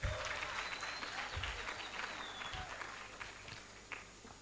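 Audience applause at a public debt forum, a steady wash of many hands clapping with a few sharper individual claps and some low thumps mixed in, fairly quiet overall.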